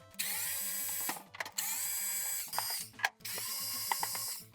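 Phillips screws being backed out of the bottom of a liquid-damaged Sega Genesis console with a powered screwdriver: several sustained whirring bursts separated by short pauses, with faint clicks and handling noise, close up.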